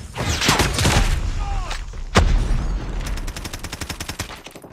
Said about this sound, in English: Grenade! Frag out!